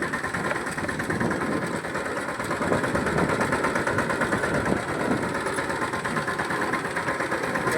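A tractor engine runs steadily at close range throughout, a continuous rumbling drone with a rapid mechanical chatter and no break in the sound.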